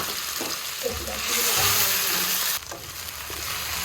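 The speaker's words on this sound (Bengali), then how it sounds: "তেল গরম হয়ে গিয়েছে, এবারে যে আলুটা দেবো সেটা একটু ভেজে দেবো।" Potatoes frying in hot oil give a steady, broad sizzle that swells around the middle and then drops slightly, with faint low kitchen rumble beneath and no voices.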